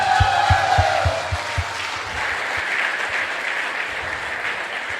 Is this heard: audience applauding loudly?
yes